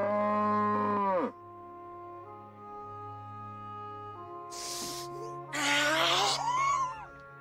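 A cartoonish cow in the game DEEEER Simulator lets out a long, loud moo that drops in pitch, followed after a pause by a couple of shorter, harsher bellowing cries, with musical tones underneath.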